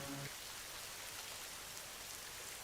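Rain during the rainy season patters faintly as a soft, constant hiss, with a brief murmur of a voice at the very start.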